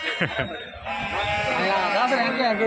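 Several sheep bleat close by at a sheep market in Gudur, Nellore, in a steady overlapping chorus, wavering calls repeating throughout with no pauses.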